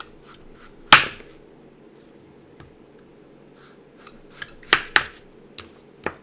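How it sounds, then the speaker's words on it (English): A kitchen knife cuts around the seeds of a butternut squash, giving a handful of sharp, close taps and clicks at irregular intervals, one early and a cluster near the end, over a low steady background hum with no talking. "And then I can cut right around these seeds."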